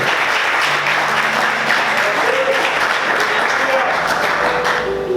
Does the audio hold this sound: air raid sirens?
no